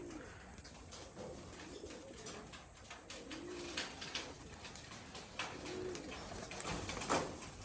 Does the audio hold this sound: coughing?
no